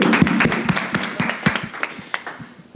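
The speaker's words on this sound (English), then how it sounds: "Let's have a nice round of applause for that" A small audience at an education forum gives a scattered round of applause, individual claps standing out distinctly over a soft background murmur, thinning out toward the end.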